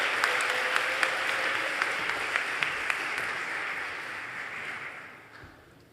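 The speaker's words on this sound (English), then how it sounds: "Let's give all these students a big round of applause." A hall audience applauds students at a university scholarships and awards day, a dense, steady sheet of clapping with a few crisp nearer claps on top, holding evenly before fading out near the end.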